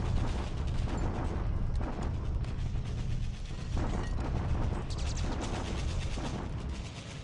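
Gunfire and explosions from a naval bombardment in the World War II strategy game War in the Pacific, a dense continuous rumble of blasts and mechanical rattling at steady loudness for the whole stretch, with no talk.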